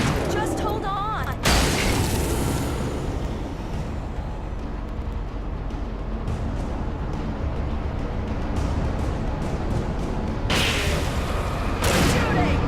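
Gunfire and explosive booms from a combat scene in the video game Alan Wake at a dam, dense and loud throughout with heavy bursts near the start and end, while a voice talks over the noise.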